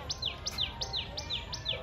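Small birds outdoors beside a farm plot repeat a quick, regular series of high descending chirps, about two per second, moderately close over a quiet background.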